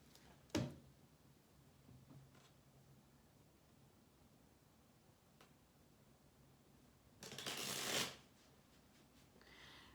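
Tarot cards shuffled and dealt out during a reading: a quick soft flick early on, a few faint taps, then a louder burst of riffling near the end, all close and quiet with no talking.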